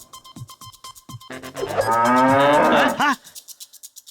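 A bull, kept by a farmer for jallikattu bull-taming, lets out one long, loud, resonant moo that ends in a short rising call. Faint rhythmic clicking runs before and after it.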